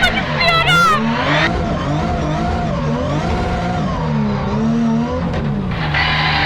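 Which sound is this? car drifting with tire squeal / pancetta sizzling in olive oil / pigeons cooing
car drifting with tire squeal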